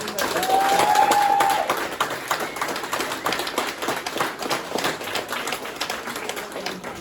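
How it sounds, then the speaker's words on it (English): Applause at a city council meeting after a motion carries, a room of hands clapping fairly loudly for several seconds and tapering off, with a brief voice near the start. "One more round of applause for everybody."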